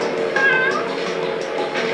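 A cat gives one clear, drawn-out meow with a rising then falling pitch, close and fairly loud, over a low background hum.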